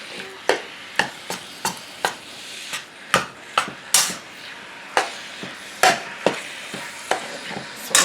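Ground chicken browning in a pan for crack slaw, with a soft sizzle under a steady series of sharp spatula taps and scrapes at irregular intervals, close up and without talk.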